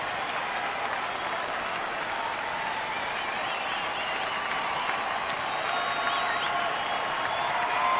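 A crowd at a baseball game applauds and cheers without a break as a pitcher closes in on a complete game, a dense, steady roar of clapping that swells slightly toward the end.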